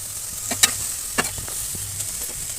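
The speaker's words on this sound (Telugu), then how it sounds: "తర్వాత అవి కొంచెం వేగాక ఈ క్యాప్సికమ్ అనేది వేసుకోవాలి." Capsicum frying in a pan with occasional stirring: a steady soft sizzle carries throughout, broken by a few sharp clinks and scrapes of a utensil, with no talking.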